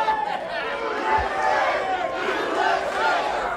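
A wrestling arena crowd jeers and shouts angrily, a dense rumble of many voices with rising swells of yelling.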